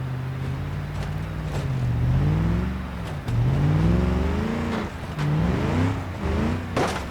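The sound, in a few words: car engine running without oil, BeamNG.drive video game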